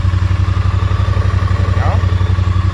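A 2018 Triumph Street Twin sits idling as it warms up, its engine pulsing with a steady, loud, even throb that holds without revving, and a brief faint chirp rises partway through.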